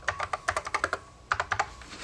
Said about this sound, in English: be able to grab the keyboard and write a note to yourself